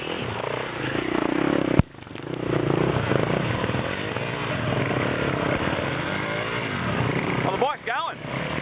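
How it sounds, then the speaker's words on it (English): A motorbike engine keeps running while the bike crosses a river, a steady rough drone under loud excited voices, with a sharp knock partway through. "the bike's going. It's still going."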